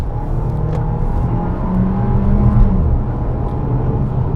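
A Fiat Pulse Abarth engine revs up hard in first gear with a close, loud growl that swells toward a peak before the gear change.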